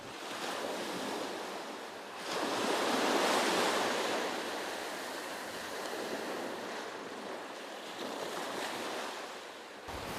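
Sea waves and strong wind at Janjira fort on the Indian coast, a continuous loud roar of surf with wind buffeting the microphone, swelling midway, no voices.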